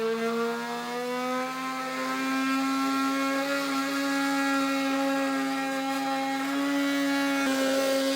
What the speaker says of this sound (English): I'm going to cut this with the multi-tool.